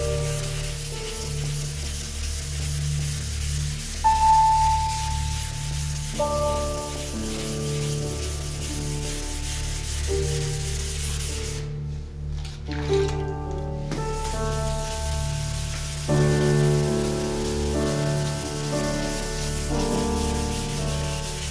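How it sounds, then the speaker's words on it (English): Sandpaper is rubbed by hand, with minimal pressure, over the clear coat on a piece of airbrush artwork, giving a steady close rasping that continues throughout with faint tonal background hum. "just let the sandpaper do its job"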